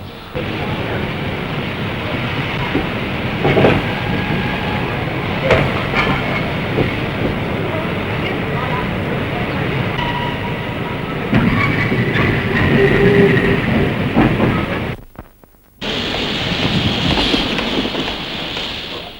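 A 1933 steam locomotive runs on rails in a steady, loud rumble with faint rhythmic clatter and wind noise, broken by a brief drop near the end before the roar resumes.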